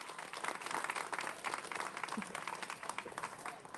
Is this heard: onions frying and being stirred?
no